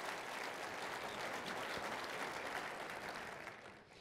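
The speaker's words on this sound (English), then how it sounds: "let's give these students a round of applause" A ballroom crowd at a welcome day for accepted students gives a full round of applause, a thick, even roar of clapping that holds steady and then eases off near the end.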